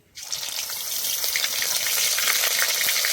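Ginger paste goes into hot oil in a pan for a vegetarian soybean dish, setting off a sudden, steady loud sizzle that keeps hissing without letup.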